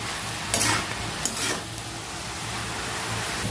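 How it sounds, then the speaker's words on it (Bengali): Panchamasali greens sizzle in a hot pan while a utensil stirs and scrapes a few times, close and fairly quiet, no talking. "এবার আমি ভালো করে নেড়ে চেড়ে এটা ভেজে নেবো।"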